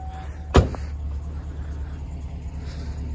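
A carbureted 1992 351 Windsor V8 idles low and steady on a cold North Idaho morning, a soft continuous rumble broken once by a sharp, close knock early on.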